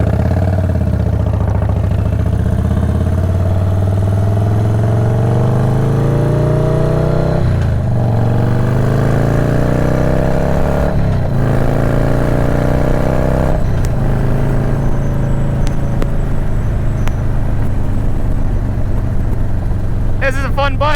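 A Harley-Davidson Dyna Low Rider S motorcycle rides through city streets, its loud engine rumbling and rising through several gear changes while the rider talks over it.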